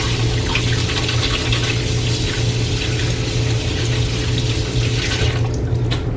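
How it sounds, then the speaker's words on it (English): Hands being washed under a running kitchen tap, a loud, close, constant rush of water splashing into a sink for the whole stretch, with no talking over it. "Alright, wash my hands."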